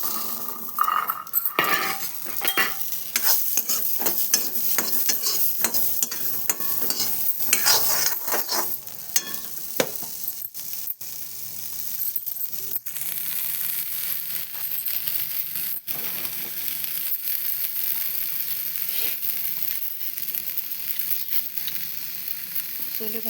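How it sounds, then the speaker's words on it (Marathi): Fresh green chickpeas are stir-roasted in a pan with a busy run of clinking spatula scrapes and rattles over a soft sizzle, the metallic taps thinning out in the second half. "भाजून झाल्या आता सोले भाजून घ्यायचे."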